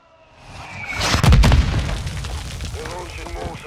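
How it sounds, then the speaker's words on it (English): Mortar fire in the Call of Duty: Modern Warfare II video game, a loud booming blast that swells and rolls off into a rumbling decay, with voices heard over it. "They're launching mortars."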